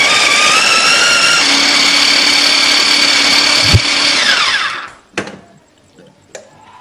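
A food chopper grinds spice paste with a loud, steady motor whine, then spins down and stops, followed by a few clunks of the bowl or lid.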